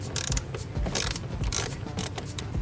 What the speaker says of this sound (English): you gotta remove this first. These little screws.